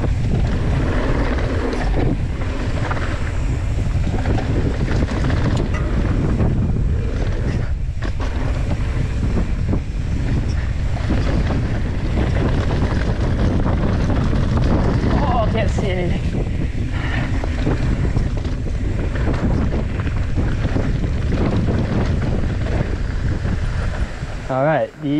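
Strong wind buffets the microphone outdoors at a big 25 ft step-up gap in the Bay Area, a loud continuous roar lasting throughout, with a voice heard briefly under it.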